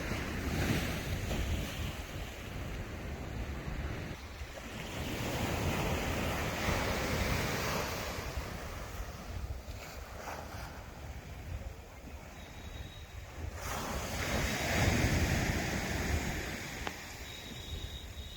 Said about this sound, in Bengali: এই দীঘার সমুদ্র। সমুদ্র তুলনামূলক খুব শান্ত